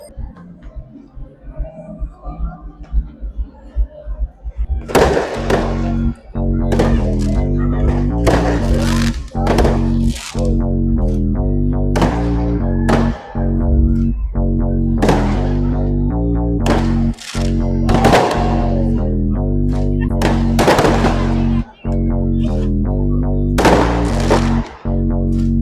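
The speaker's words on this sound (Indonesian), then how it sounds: "Nih guys, kita lagi banyak kembang api gitu kan." New Year fireworks burst in rapid, loud, close succession, a long run of sharp cracking bangs following a quieter opening stretch.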